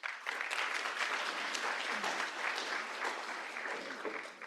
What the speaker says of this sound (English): Big applause again for Stefania